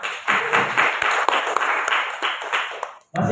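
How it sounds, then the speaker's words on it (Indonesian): An indoor audience gives Ibu Eni a round of applause at a teachers' gathering, a steady burst of many hands clapping close by that cuts off abruptly near the end. "kita berikan aplaus juga untuk Ibu Eni"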